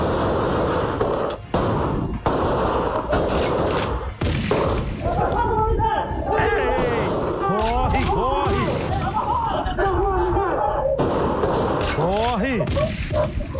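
Several sharp gunshots and thuds from a street shootout ring out amid excited, overlapping shouting, with the loud voices dominating much of the clip.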